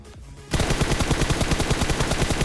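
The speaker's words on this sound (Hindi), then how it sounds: "भाई सामने बहुत तगड़ी फायरिंग चल रही थी" Automatic gunfire in the battle royale game PUBG on the Rozhok map, a sudden loud burst of rapid, evenly spaced shots that continues steadily after a brief quieter moment.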